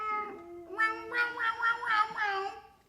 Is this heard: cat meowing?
yes